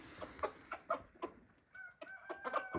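A rooster calling hens makes a series of soft, rhythmic clucking calls close by, ending in a few short higher-pitched notes.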